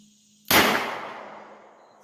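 A single loud gunshot cracks at an outdoor shooting range, a sharp close report followed by a long fading echo tail lasting over a second, with no voices.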